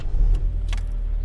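Car engine given gas, a steady low rumble close by with a brief rising whoosh near the middle, over just over a second.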